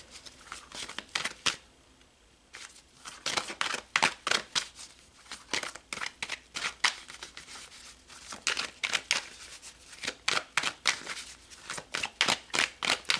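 Tarot cards are shuffled over and over in quick crisp bursts of riffling and snapping, close and clear, with short pauses between runs and no talking.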